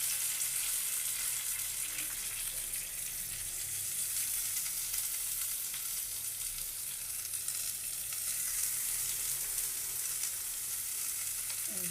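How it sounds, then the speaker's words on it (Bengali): Bhetki fish pieces fry in a little oil in a kadai before being wrapped in pumpkin leaves for paturi. A continuous, even sizzle of hot oil carries on throughout, close but fairly quiet, with no talking. "কড়াইতে আমি সামান্য পরিমাণে তেল দিয়েছি, দিয়ে এবার সেই ভেটকি মাছটা বটে নিয়েছি"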